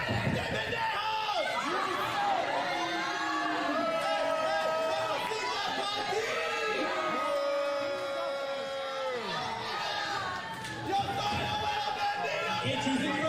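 Crowd chatter, murmurs and scattered laughter fill a civic building hall in Seminole, Texas at a pro wrestling event, a steady dense wash of many voices with no single speaker standing out.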